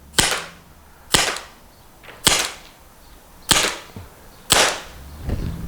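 A pepper spray gun fires five sharp cracking shots at roughly one-second intervals, each followed by a short ringing smack as the round hits targets inside a metal dumpster, loud and near, with a faint clatter at the end.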